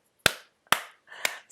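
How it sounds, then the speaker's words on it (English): Three slow, isolated hand claps, evenly spaced and crisp, each sharp smack followed by a short decay into silence. "slow golf clap"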